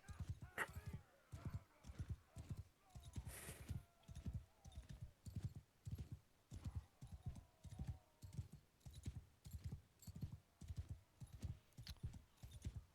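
Horse hooves clop in a steady, rapid galloping rhythm throughout in the video game Mount & Blade II: Bannerlord, evenly paced and prominent, with faint game sounds and occasional voices beneath.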